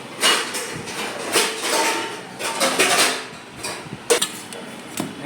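Paneer curry is served into a bowl while metal utensils and dishes clink and scrape in a series of irregular, close, fairly sharp knocks, with no talking.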